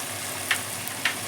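Hot oil sizzles steadily in a pan while chili powder goes in for gongura mutton, with a constant close frying hiss and two brief spoon scrapes.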